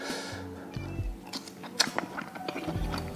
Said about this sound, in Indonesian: Buncisnya kriuk-kriuk, agak crunchy.